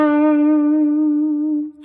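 A single sustained electric guitar note with a rich, overdriven harmonic tone, held steady and loud for nearly two seconds with only a slight vibrato wobble, then cut off abruptly.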